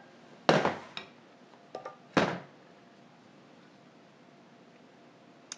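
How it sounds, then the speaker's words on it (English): A metal beater is pulled from an electric mixer in a home kitchen while making an apple cake, giving a few sharp clunks and brief rattles spaced over several seconds, with quiet between them. "Get my beater off."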